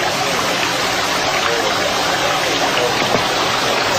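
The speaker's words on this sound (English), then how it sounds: "Just the sound of water is magic." Water flowing steadily at a scenic outdoor spot, a dense, even rushing wash that holds constant throughout without pauses.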